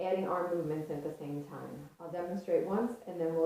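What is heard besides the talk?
None of the usual background noises is heard.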